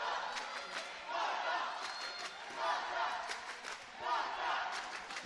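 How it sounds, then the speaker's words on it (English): Distant, vociferous Maltese supporters chant and cheer at a men's water polo match against England, their shouts swelling and falling in waves across an echoing pool hall. "Maltese crowd here,"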